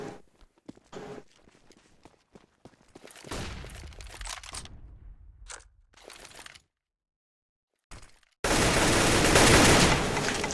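Gunfire in a competitive Counter-Strike match, heard as scattered sharp shots and footsteps, then a loud sustained burst of dense fire near the end after a brief silence.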